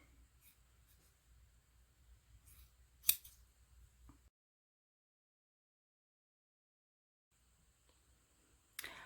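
Scissors snip through bikini lining fabric in a few quiet, close cuts with a sharp click, then a stretch of silence before another crisp snip at the end.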